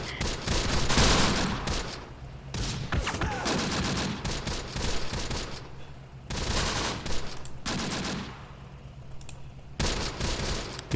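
Artillery fire in Close Combat: The Bloody First, a series of loud booming blasts and rumbling impacts in separate bursts spread across the stretch, with quieter gaps and faint clicking between them.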